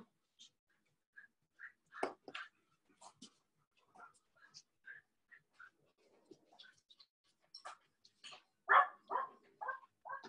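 Dogs barking indoors in a home during woodworking, scattered sharp barks and yelps at a distance, some louder near the end, with no talk.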